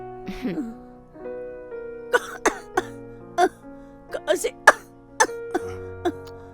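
A feverish woman coughs repeatedly in short, uneven bursts over a soft, sustained musical background.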